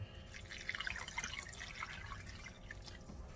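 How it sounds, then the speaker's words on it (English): Water is poured into a small 2.5 quart crock pot, a faint, steady trickle with light splashing and dripping over a low background hum, with no talk. "And with that, I'm going to add 2 cups of water."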